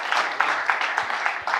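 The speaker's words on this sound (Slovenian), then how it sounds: "En velik aplavz za skupino NLB." Applause for the NLB team at the Greenvizija 2020 hackathon event, a steady crowd clapping with rhythmic louder bursts, fairly close and sustained throughout.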